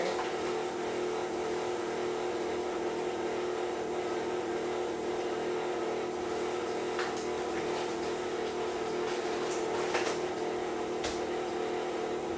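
Electric stand mixer stirring devil's food cake batter as sugar is added, a steady continuous motor whir with a constant pitch that holds without a break throughout.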